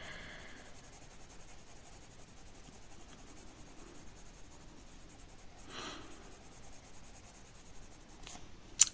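A Prisma coloured pencil shades paper in small circles with a light touch: soft, continuous scratchy rubbing heard up close and quiet, with a couple of brief sharper strokes near the end.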